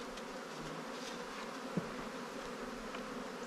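Bees buzz softly around an opened hive at a ranch apiary during a December inspection, a steady low insect drone throughout with one brief knock near the middle.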